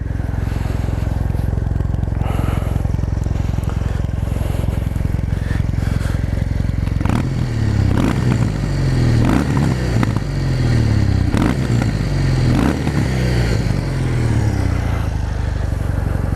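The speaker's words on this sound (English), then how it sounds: "let's do an exhaust sound" A 2019 Kawasaki W800 motorcycle engine idles loudly nearby, then its exhaust rumbles and pulses through repeated throttle blips in the second half.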